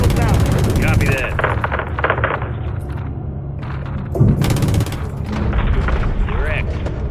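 Gunner's gunfire in the video game Call of Duty MW3: loud bursts of rapid automatic fire and heavy thumps over a rumbling battle background, with voices talking in between.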